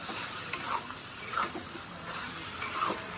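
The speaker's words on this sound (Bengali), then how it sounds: "এবার আমি ঢাকাটা খুলে নিলাম, নিয়ে আমি আবারও নাড়াচাড়া দিতে হবে।" Flat beans with prawns stirred in a pan after the lid comes off, soft scraping strokes over a faint sizzle, with a small metallic clink near the start, quiet and close.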